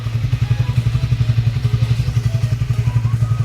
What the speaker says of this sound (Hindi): So yes, it is single cylinder bike, and अभी ये कोल्ड स्टार्ट हो चुकी है।